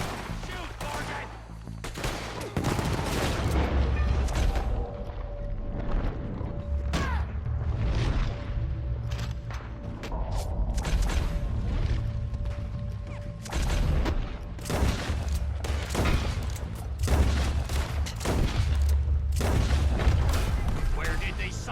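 Gunfire in Red Dead Redemption 2 erupts in repeated sharp shots, some single and some in quick clusters, spread across a long firefight with booming low rumble underneath and voices shouting between bursts.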